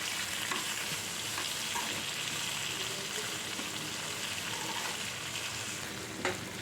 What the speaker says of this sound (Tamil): தக்காளியும் வந்து நல்லா சாஃப்டாக வதக்கிக்கலாம்.